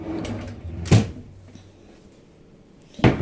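Cupboard door in a hostel room swinging open and shut, giving two distinct knocks of wood about two seconds apart against faint room noise.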